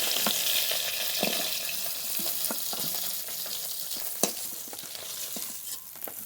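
Pieces of fish fry in hot oil in a home kitchen, a steady close sizzle with bright crackles and occasional sharper pops, heard alone without any voices.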